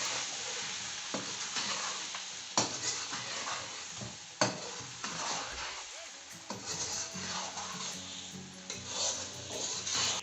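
A spoon stirs salt, turmeric and dry coriander through a pot of chicken biryani, scraping and rubbing with a soft sizzle beneath and a couple of sharp knocks against the pot.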